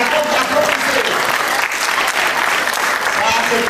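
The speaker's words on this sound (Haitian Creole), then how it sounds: "Applaudissez chaudement s'il vous plaît" Audience at a church Christmas party gives a sustained round of warm applause, dense continuous clapping from a crowd that fills the room from start to finish.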